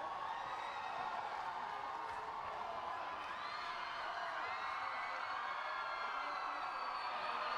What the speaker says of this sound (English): very enthusiastic crowd in the background